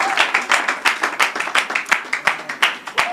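An audience at a blockchain wealth-creation talk claps in a steady, rhythmic beat, roughly six or seven loud, close claps per second, with no voices over it.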